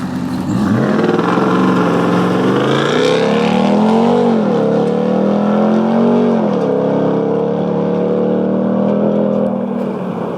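A 2021 Ram 1500 TRX pickup with a supercharged Hellcat V8 accelerates hard on a dirt drag strip, its loud snarling roar climbing through gear shifts, heard up close from outside the truck.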